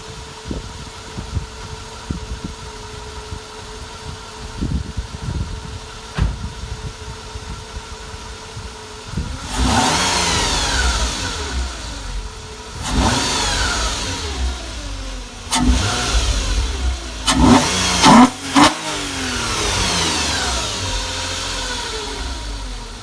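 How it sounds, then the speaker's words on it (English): A Nissan Altima SE-R fitted with a cold air intake idles, then revs in several sharp bursts that climb and fall back, close and loud, with the intake roar prominent on each throttle blip. "I'm gonna give you some few revs so you can hear the intake."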